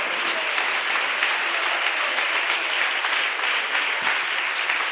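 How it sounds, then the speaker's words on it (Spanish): A church congregation applauds in unison, dense and steady clapping that stays loud and even from start to finish with no talking on top. "Aplaudimos al Señor en este momento por eso."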